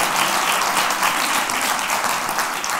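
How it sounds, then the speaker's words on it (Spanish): A hall audience at a foundation conversation event gives dense, steady applause that stays at an even level for the whole short stretch. "Aplaudan."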